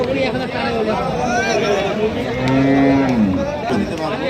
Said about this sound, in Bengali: কুরবানির বড় বড় সার গরুগুলো দিনাজপুর কারল হাট থেকে বিক্রি হচ্ছে